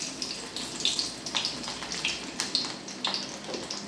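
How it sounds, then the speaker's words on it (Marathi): Garlic hits hot oil in a pan and gives a steady, soft sizzle and hiss with faint crackles and pops scattered throughout, heard close and alone. "तर आता तेल तापलेलं आहे, त्यामध्ये मी टाकणार आहे लसूण"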